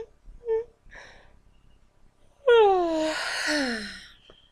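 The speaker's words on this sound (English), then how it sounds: "that fake yawn actually made me a bit sleepy" A deliberately exaggerated fake yawn from a man, loud and close: a long, rising then falling breathy vocal groan lasting about two seconds, after a few faint soft sounds.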